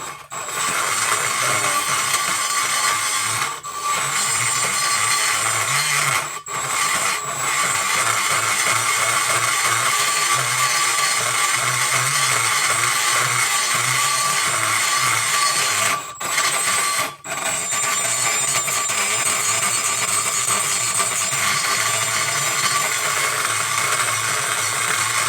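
A power tool fitted with a ball bit ports GT40P cylinder heads, a loud continuous high-pitched grinding whine that runs steadily with a few brief pauses and no talking.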